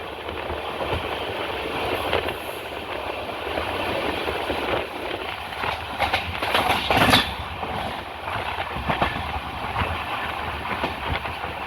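Kerala's Jan Shatabdi express rolls along the rails with a steady, continuous rumble and rhythmic clickety-clack from inside the carriage, rising to a louder burst of clatter midway before settling back.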